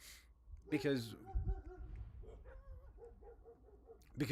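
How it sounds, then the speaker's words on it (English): Dogs at a ranch bark and yip in short bursts, moderately close, with whimpering tones in between, while a person talks over them. "some dogs are barking"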